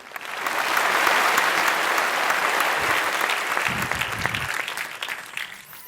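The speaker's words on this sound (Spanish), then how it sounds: "Un aplauso para Fernando Maltrana, director técnico de" Audience applauding for Fernando Maltrana, technical director of TICmedia, at a talk on connectivity; steady dense clapping from a sizable crowd that swells quickly and holds for several seconds before thinning out.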